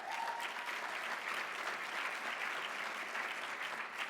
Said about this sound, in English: As you can tell, Jerome brought his own cheering section with him